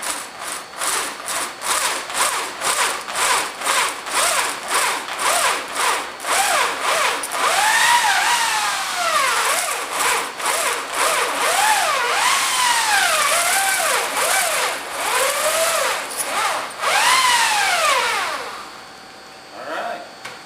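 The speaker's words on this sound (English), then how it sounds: "I probably should drill the pilot hole first" A power drill grinds through copper in repeated bursts, its pitch rising and falling as it bites in, close and loud, ending with a brief quieter tail.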